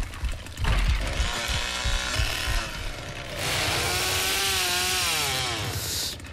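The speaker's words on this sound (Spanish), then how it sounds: "Me encanta cuando eres Leatherface y tienes a todos acojonadísimos por el sonido de la motosierra." Leatherface's chainsaw in a horror game roars loudly and close, the two-stroke engine sputtering at first, then revving into a sustained high whine that rises and falls.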